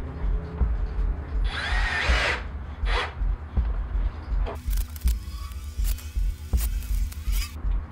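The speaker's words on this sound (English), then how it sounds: "Let's put a couple of screws in there just to hold it, and then I'll flip it over and put the screws in all the way around." A power drill drives screws while new speakers are fitted in a Toyota LandCruiser, giving a short whirring burst followed by several brief buzzing spurts amid scraping and handling noise.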